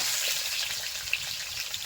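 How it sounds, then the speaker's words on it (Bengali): Potatoes frying in hot oil in a wok over a village-style stove: a continuous close sizzle with fine crackling pops and a brief sharper spatter partway through, no talking. "ততক্ষণে আমরা উনানে কড়াই বসিয়ে তার মধ্যে তেলটা গরম করে আলুগুলো দিয়ে ভালো করে ভেজে নেব"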